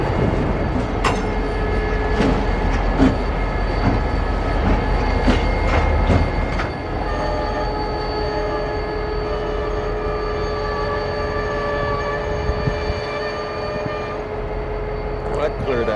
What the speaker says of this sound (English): And here's that yard job backing into the yard.